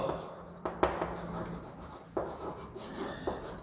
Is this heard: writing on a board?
yes